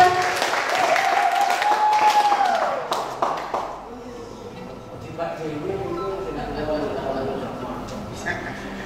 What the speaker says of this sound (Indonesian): Kita beri tepuk tangan untuk Pak Fajar, teman-teman.